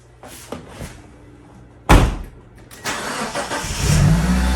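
A car door slams shut, then the engine cranks and catches, settling into a steady idle after a brake repair on a car left sitting for a decade, all close by with no talk.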